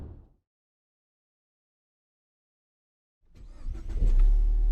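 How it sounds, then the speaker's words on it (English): 2015 Ford Mustang EcoBoost turbo four-cylinder accelerating after a silent gap, the engine swelling from nothing into a loud rising growl with a faint whistling tone on top. "You can hear that turbo come alive, and that is so cool."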